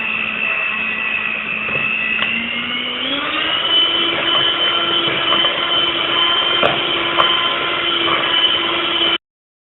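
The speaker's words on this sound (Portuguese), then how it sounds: "agora eu vou bater com a batedeira." An electric hand mixer whirs steadily through chocolate cake batter made with chocolate drink powder, its motor pitch stepping up partway through and then holding a loud, even drone until it stops abruptly.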